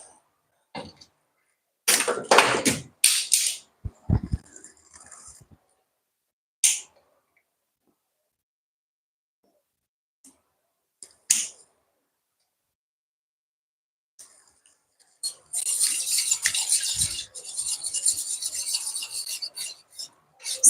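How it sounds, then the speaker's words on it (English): Tangzhong flour paste stirred in a pan over low heat: scattered scraping and rubbing strokes, some bursts close and distinct, with a denser stretch of rasping stirring toward the end, separated by quiet gaps. "Now I'm going to put it on fire, on low heat, and stir as I go so that it forms a thick paste."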